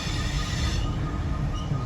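Two old CSX Geep diesel locomotives switching an interchange in Decatur, Alabama, give a steady, close rumble of rail equipment with a dense low-end roar, running continuously without any speech.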